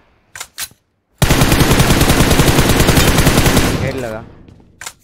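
A UMP submachine gun in the PUBG/BGMI battle royale game fires one long sustained burst of rapid shots, loud and close, with a few single shots before and after and brief voices in the background.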